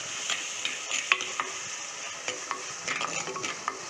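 Ginger garlic paste sautéed with onion and tomato for a spicy crab fry: a soft sizzle under repeated spatula scrapes and clicks against the pan, close and uneven, with no voices.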